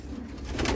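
Young racing pigeons in a loft give a short, soft coo, close and fairly quiet, with no one talking.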